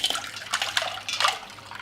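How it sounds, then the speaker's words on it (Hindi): Ice and water poured over thin potato strands in a kitchen, heard as close splashing and trickling in short uneven bursts, fairly soft, with no talk. "इन बाद मैं पानी मैंने बर्फ डालने लिया और बर्फ और पानी मैंने डाल दिया।"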